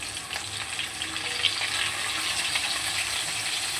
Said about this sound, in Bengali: তেলটা গরম হয়ে গেছে, চিকেনের আলুগুলোকে আগে ভেজে নেব।